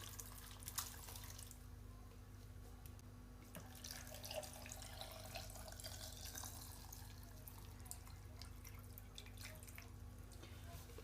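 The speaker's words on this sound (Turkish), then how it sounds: "sebzelerimizin üzerine geçecek kadar suyumuzu ilave ediyoruz" Water poured over vegetables in a pickle jar, a steady faint trickling and splashing under a low background hum.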